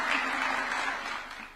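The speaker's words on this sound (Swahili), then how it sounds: "Tumpigeni makofi." A short burst of audience applause at a State House meeting with Nairobi United FC, honoring the MVP goalkeeper. The dense clapping fades slightly over under two seconds.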